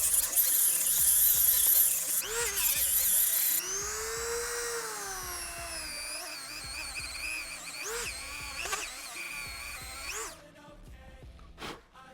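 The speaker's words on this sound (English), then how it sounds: "we're gonna take the Dremel tool with a sanding wheel and just blend that in" A Dremel rotary tool fitted with a sanding wheel grinds on a part during a 2001 Honda CR125 two-stroke top-end rebuild, a loud high whine that rises and falls in pitch as load changes, with brief pauses and no talking.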